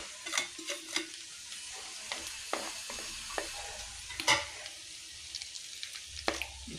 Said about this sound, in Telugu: ఆవాలు, జీలకర్ర, ఎండుమిరపకాయలు కూడా వేస్తానండి.